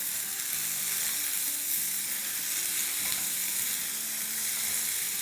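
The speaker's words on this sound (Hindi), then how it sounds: "तो बस इसमें अब हम डालेंगे अपने टमाटोस और अब चूल्हे को कर देंगे बंद और इसको हम हिलाएंगे।" Tomatoes sizzle steadily in a very hot pan with the flame switched off, a dense continuous hiss with soft stirring scrapes underneath, close and fairly loud throughout.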